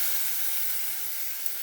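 Vinegar is poured into a pan of cooking chicken feet, giving a steady, close, broadband sizzling hiss throughout with no voices.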